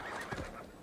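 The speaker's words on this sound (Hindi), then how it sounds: "चल चल मेरे घोड़े भाग भाग भाग भाग" A horse whinnies briefly in Assassin's Creed Valhalla, a short mid-pitched neigh heard up close over a steady bed of game ambience.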